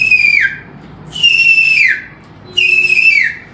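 A man whistles an imitation of a kingfisher's call: three loud, shrill descending whistles spaced about a second apart, each ending in a quick downward slur, with a faint background hum.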